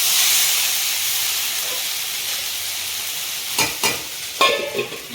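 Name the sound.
potatoes frying and being stirred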